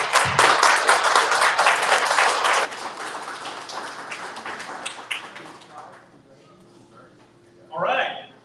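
An audience at a live founders' showcase event in Dallas claps loudly and densely for a few seconds. The applause then thins and fades into quieter scattered claps, and a short burst of cheering comes near the end.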